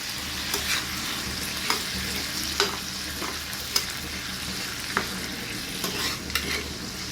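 A spatula stirs a tamarind paste mixture in a frying pan while making uttapam, with a steady sizzle and a run of soft scraping clicks and taps spread evenly through the clip, with no talking.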